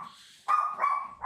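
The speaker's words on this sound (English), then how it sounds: "That yapping dog, bro." A small dog yapping indoors, two quick high-pitched yaps, close and fairly loud, after a brief quiet whine.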